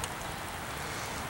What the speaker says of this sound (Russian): Ой, дождик.